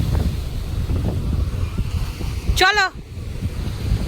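Rough sea and gusty wind on Digha beach on the Bengal coast, a continuous blustery roar of surf and wind buffeting the microphone, with someone talking over it and a brief sharp warbling call partway through.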